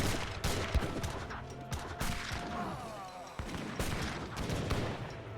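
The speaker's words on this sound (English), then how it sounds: "Let's take out some of the organ guns there with the Tsar cannon." Massed cannon and musket fire in a battle in Age of Empires 3, including the Tsar cannon, with dense overlapping bursts and booms crackling almost nonstop. A voice speaks faintly beneath the fighting.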